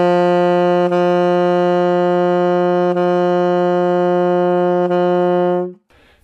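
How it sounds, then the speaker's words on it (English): A saxophone holds one long, steady, loud note, broken by a few very gentle tongued re-articulations before it stops. "start with a long note, and then in the midst of that long note, just tongue once or twice"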